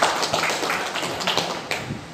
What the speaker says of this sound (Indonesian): Beri aplaus kepada Ibu Seknur kita.